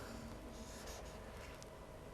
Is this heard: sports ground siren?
no